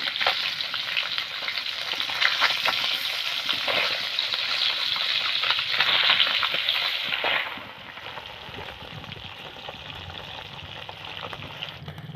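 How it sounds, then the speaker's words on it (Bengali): Taki fish frying in hot oil in a wok while being turned, giving a loud, steady crackling sizzle that drops to a quieter hiss partway through, with no talking. "মাছগুলিকে এবার উল্টে পাল্টে ভালো করে ভেজে নেব"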